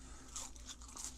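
Crispy french fries are bitten and chewed close up, giving a few soft crunches in quick succession, faint and without speech.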